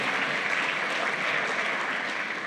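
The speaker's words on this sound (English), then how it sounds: "Keep your applause till the end," Steady applause from a crowd, a dense wash of clapping that carries on evenly without voices.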